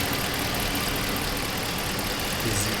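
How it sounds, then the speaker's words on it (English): Ram 1500 pickup truck engine idling, a steady, even rumble held close and alone with no talk, under a broad constant hiss. "Engine actually sounds pretty good, man."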